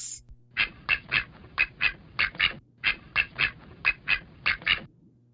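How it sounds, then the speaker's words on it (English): Ducks quacking in a run of about fifteen loud, evenly spaced squawking quacks, close and clear with no talk over them. "Ducks."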